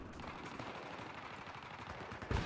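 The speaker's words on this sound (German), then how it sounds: "Wer schießt da mit den Granaten rum?" Dense rapid gunfire crackles continuously in a Battlefield 3 battle, with a heavier grenade launcher blast near the end.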